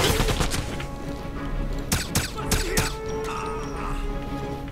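Video game gunfire in Wolfenstein: several sharp shots crack out in quick succession over a steady game backdrop, followed by a humming lull.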